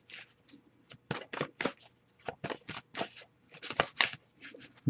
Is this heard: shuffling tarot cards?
yes